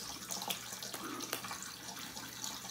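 Tap water running steadily into a bathroom sink for a cold rinse after shaving, a faint, even splashing flow with a few small drips.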